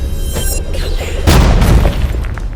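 In a Turkish Pokémon animation parody, an explosion attack lands as a deep, loud boom with a crackling burst, rising out of a busy cartoon soundtrack and fading over a couple of seconds.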